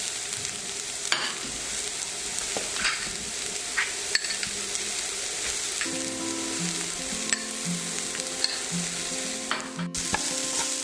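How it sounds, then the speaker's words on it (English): Chopped carrot and beans sizzle and fry in a pan for hara bhara kebab, a dense steady hiss close up, with occasional scrapes and clicks of a spoon stirring and a faint melodic tune entering partway. "Once you add the vegetables, fry this for 3 to 4 minutes."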